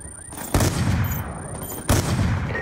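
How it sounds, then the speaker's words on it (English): Sniper gunfire in Call of Duty: Black Ops 2, with two loud, sharp shots roughly a second and a half apart ringing out over a steady background of battle noise and a high whine. "Taking fire from snipers on the overpass!"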